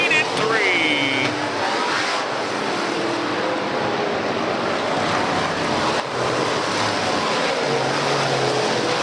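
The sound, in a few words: modified race cars circling Southern New Mexico Speedway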